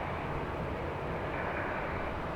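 Steady, dense broadband roar of a Boeing 747, Air Force 2, landing at LAX in a crosswind, continuous and loud with no distinct events and no voices.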